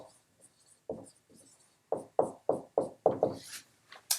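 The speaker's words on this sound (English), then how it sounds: "So let's write that down." Chalk or marker strokes scratch across a board during a math lecture, a series of short, sharp taps and scrapes that quicken into a rapid run of strokes, close and clear with no talking.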